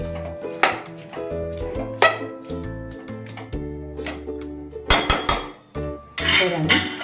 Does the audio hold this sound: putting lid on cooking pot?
yes